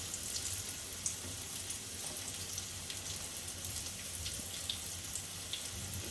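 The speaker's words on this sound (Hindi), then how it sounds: "आप इसको शैलो फ्राई करें।" Banana tikki stuffed with dates and raisins shallow-fry in oil over medium heat, giving a faint, continuous crackling sizzle with small scattered pops, heard alone without speech.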